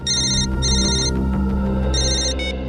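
A telephone rings loudly with a repeated electronic tone in bursts over a heavy, sustained dramatic music bed, for a call from a police patrol van.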